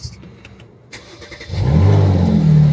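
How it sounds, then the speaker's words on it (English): A Mercedes-AMG car engine starting in Sport Plus mode: after a short quiet pause, the engine cranks, catches and roars into a loud, deep, steady idle close by. "when you turn on accessory mode and you flip this twice, this gets changed to Sport Plus, which means when you start the car"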